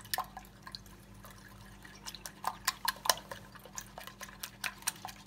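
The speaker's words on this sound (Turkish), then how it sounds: "şimdi bu şeyden sonra hızlı bir şekilde şu yumurtalarımızı da bir çırpalım" Eggs being beaten by hand in a separate bowl for a Turkish kaygana, a quick run of light, irregular clinking taps against the bowl that grow busier toward the end, fairly faint and close, with no talking.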